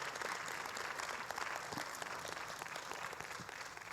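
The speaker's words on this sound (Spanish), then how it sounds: "dale un fuerte aplauso al Señor" Churchgoers break into loud, continuous applause, a dense wash of many hands clapping at once, steady for the whole stretch with no voices standing out.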